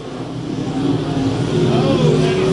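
Race cars speed side by side down the front stretch of a dirt speedway at a USRA Nationals A-main, their engines producing a loud, continuous, close roar that builds slightly as they pass.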